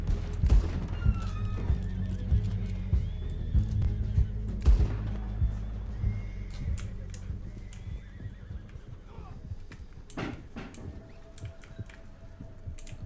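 Horses in the Red Dead Online video game neigh loudly and whinny several times near the start, with clip-clopping hooves and faint game ambience continuing after.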